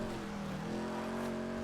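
A Ford F-150 pickup engine in GTA V hums with a strong, steady tonal drone that rises slightly in pitch, heard up close and continuous, with no voices.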